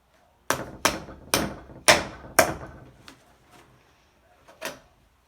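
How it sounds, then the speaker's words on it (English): A hammer drives a nail through a tin can: five sharp, close metallic blows in a steady rhythm, followed by a few lighter taps. "take the hammer, and you're going to hammer it until the nail goes through"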